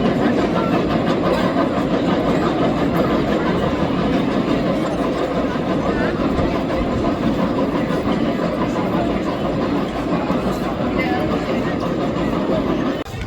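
Rumbling and rattling of The Big One roller coaster at Blackpool Pleasure Beach, a loud, continuous roar of cars on track running the whole time, with voices mixed in.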